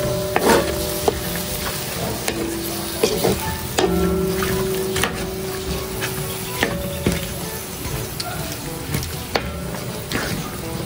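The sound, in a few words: stirring food in a cooking pot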